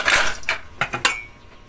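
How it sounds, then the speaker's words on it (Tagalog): A lid goes onto a simmering pot of sinigang sa sampaloc, a short burst of close metallic clinks and rattles settling within under two seconds, with no voices. "Takpan muna natin."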